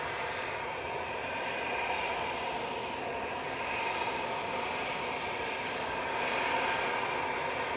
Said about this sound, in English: So it's quite loud here with this EasyJet right in front of us